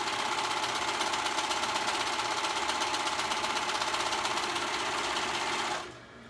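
A sewing machine stitches along the raw edges of a child's hoodie, running fast and steady in a loud continuous whir, then slowing and stopping just before the end.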